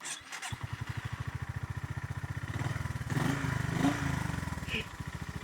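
A 2025 Honda GB350S motorcycle starts up, settling straight into a close, steady thumping single-cylinder idle with evenly spaced pulses that swell slightly midway, while voices talk softly underneath.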